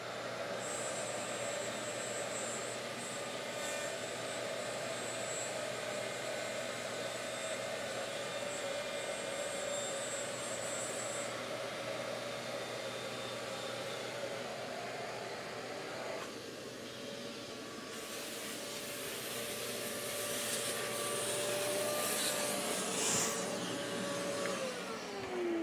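A Shaper Origin handheld CNC router cuts acrylic for a candy machine, a loud, steady broadband whine that holds for a long stretch, with a shift in pitch and texture partway through.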